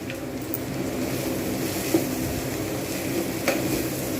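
Ground poppy seeds fry in a pan for a cauliflower posto dish, a steady low sizzle with occasional soft clinks of a spatula against the pan.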